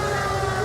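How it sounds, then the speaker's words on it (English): A police car siren wails in the 1940s Los Angeles of the video game L.A. Noire, a steady high electronic tone over a low engine rumble, brief and fairly close. "Turn on the siren and pull her over."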